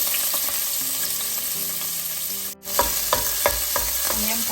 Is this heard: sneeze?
no